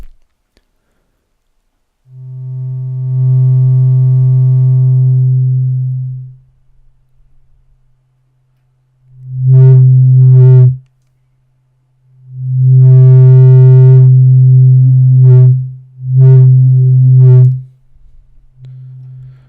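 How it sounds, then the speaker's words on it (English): A pure, steady sine-wave tone from a Pittsburgh Modular Lifeforms SV-1 synthesizer droning on middle C, sounding in several long sustained stretches separated by short silences, loud and close. "it's just a droning note, just a middle C"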